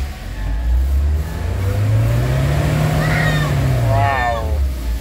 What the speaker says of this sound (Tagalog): So rev natin.